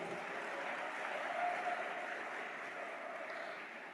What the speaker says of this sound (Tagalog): Yan ang pumalakpak mga tao rito.